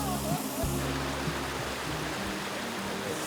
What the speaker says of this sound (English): this waterfall itself is just, I wouldn't say just as incredible, but it is incredibly beautiful nonetheless